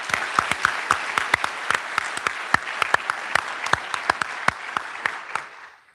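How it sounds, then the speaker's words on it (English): Graduation ceremony audience applauding a guest speaker, a sparse, spacious round of individual claps ringing out at an uneven rhythm before fading away. "I'd like to give a round of applause to him"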